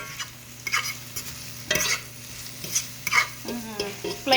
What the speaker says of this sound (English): check on my sauteed onions and green peppers here.